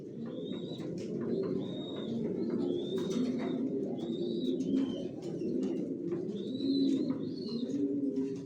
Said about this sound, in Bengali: কত কবুতর পালি আমি নিজেও জানি না।